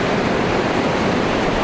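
Ocean surf along the South Carolina coast washes in a steady, loud, unbroken hiss of breaking waves, with no voices heard.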